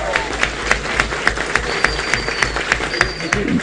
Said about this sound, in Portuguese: Gostaria que desse uma salva de palmas a todos eles que estão aqui presentes conosco